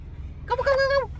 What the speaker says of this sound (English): Oh, that's a turkey.